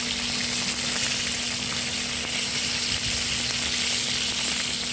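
Chicken balls fry in hot oil with a dense, steady sizzle that crackles close and loud throughout, with no voices.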